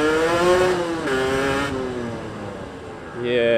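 A Yamaha YBR hire motorbike fitted with a 34mm race carb revving, the engine note climbing and falling in strained pulls that struggle to rise further, loud and close, with a rider speaking over it.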